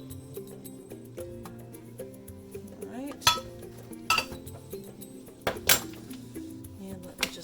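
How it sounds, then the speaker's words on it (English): Utensils stir soap batter for a cold process coconut soap in several containers, giving a few scattered clinks and taps against the sides over quiet background music. "Give these all a little stir."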